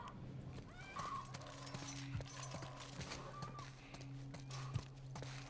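A horse whinnies a few times in the video game The Last of Us amid low background hum and scattered clatter, fairly faint and with no talking.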